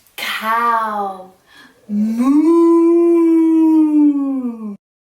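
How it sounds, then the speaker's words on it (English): A cow moos in one long, drawn-out, steady call lasting about three seconds, close and clear, after a short vocal sound. "Moo."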